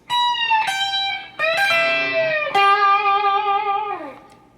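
Electric guitar plays the third section of a song's solo, sustained notes with a string bend and a sliding, falling final note, close and alone over about four seconds.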